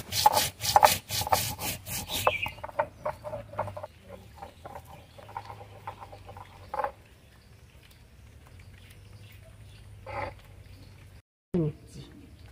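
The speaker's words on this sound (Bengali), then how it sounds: "ধনে আর জিরে একসাথে বাটবো।" Coriander and cumin are ground together on a grinding stone. A rapid series of scraping, rubbing strokes comes first, then slower intermittent grinding and knocks, with a person talking over it.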